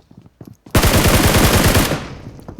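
A SCAR rifle in PUBG Mobile fires one rapid, loud, close automatic burst lasting just over a second, after a few brief quieter sounds.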